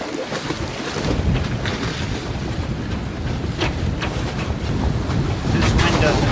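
A strong gale blows over a sailboat at anchor near icebergs, a loud, close, buffeting roar of wind with gusts battering the microphone and a faint rush of water underneath.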